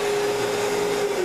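Bio3Blaster Rugged Pro Series ozone generator running its high volume blower fan, a steady loud broadband whoosh with a constant tonal hum throughout, no voices.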